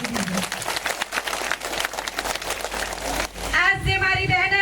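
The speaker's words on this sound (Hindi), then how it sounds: "जोरदार तालियां बजाई दीजिए।" A crowd at an Adivasi rally claps for about three seconds in a dense, fairly close patter before the applause gives way to a voice over a loudspeaker.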